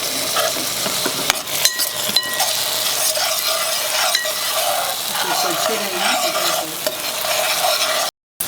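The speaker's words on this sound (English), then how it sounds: "I put in the tomatoes, which I de-skinned." De-skinned tomatoes fry in a pan for a pomfret caldine curry, a steady broadband sizzle under repeated spoon scrapes and stirring clinks, close and fairly loud, with a brief dropout near the end.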